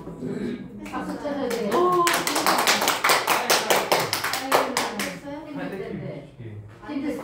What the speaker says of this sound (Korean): 박수 쳐줘야 돼요